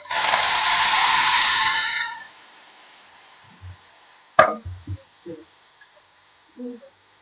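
Onion, tomato and coriander dropped into hot tempering with curry leaves, a loud broad sizzle for about two seconds that quickly dies down, followed by a few soft stirring clicks and taps.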